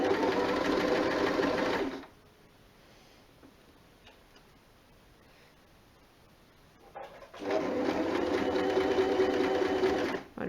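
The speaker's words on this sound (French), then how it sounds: "on va repasser un petit peu sur le début de la couture que l'on a commencé, ça nous fera un point d'arrêt" A sewing machine stitches the hem of a jersey top in two loud, steady bursts, the first about two seconds long and the second about three seconds long, with a quiet pause between them.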